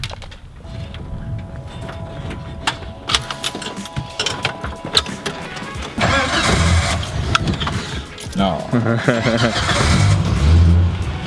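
A Jeep with a freshly repaired exhaust leak is cranked over and fires up, with keys jangling first, then the engine catches and revs, running loud and rough under brief speech nearby.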